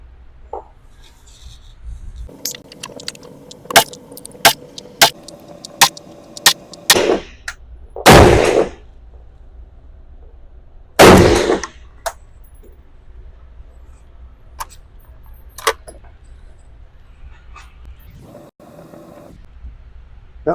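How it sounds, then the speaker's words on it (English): A 6.5 Creedmoor rifle fires during load development, several sharp, close shots with short gaps between them, plus a few rustling handling sounds in between. "I'll be shooting 2 groups of 5 at each powder charge."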